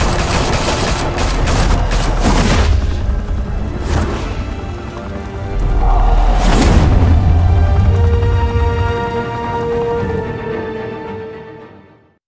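Sustained gunfire in a shootout from the video game Batman The Telltale Series, loud bursts of rapid shots and heavy booms rolling across about twelve seconds before trailing off, with no talk over it.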